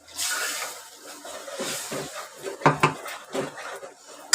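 A mixer grinder jar and other dishes are washed in a home kitchen during egg curry preparation, giving irregular clinks and clattering knocks of utensils over faint running water, close by with no speech.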